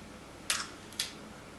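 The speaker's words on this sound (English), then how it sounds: "I felt the leaf shutter firing inside the adapter." Two quick, faint mechanical clicks about half a second apart as the leaf shutter of a Pentax Q fires inside a K-mount lens adapter, heard over quiet room noise.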